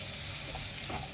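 Minced meat frying in a pan as it is stirred, a brief, even hiss of sizzling with a faint scrape, quiet and close.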